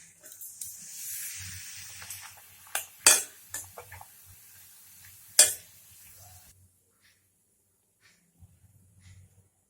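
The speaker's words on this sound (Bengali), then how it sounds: "তেল গরম হয়ে গেছে, আমি পাঁপড় ভেজে নেব।" Papad pieces frying in hot oil, a soft sizzle with sharp metallic clinks and scrapes of a utensil against the pan, fading out near the end.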